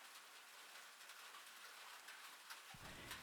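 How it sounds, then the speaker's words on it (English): Steady rain falling at night, a soft continuous hiss of drops on surfaces with no voices over it, quiet and even throughout. "The rain is doing all the work for you."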